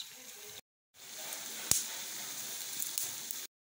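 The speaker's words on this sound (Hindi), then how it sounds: "इन मीठी टिक्कियों को हम मीडियम फ्लेम पे इसको हम फ्राई करेंगे।" Sweet meethi tikki patties sprinkled with sesame seeds fry on a medium flame, giving a steady soft sizzle and hiss that stops briefly, resumes, and carries one sharp crackle pop partway through.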